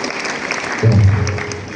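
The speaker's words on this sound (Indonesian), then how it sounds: "Tepuk tangan dulu, kita kasih semangat." Applause from an audience at a high school event in Kayen, Indonesia, starting moderately and swelling louder partway through, a steady wash of clapping with some voices mixed in.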